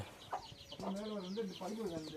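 Guinea fowl and chickens clucking and cackling in a busy farmyard, with overlapping bird calls and a loud squawk partway through.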